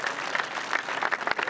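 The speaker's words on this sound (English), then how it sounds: "a nice round of applause for these 2 competitors battling here in this 2-hole aggregate playoff" A golf gallery at the final round of the U.S. Women's Open applauds two players in a two-hole aggregate playoff, with dense, steady clapping from a crowd of spectators.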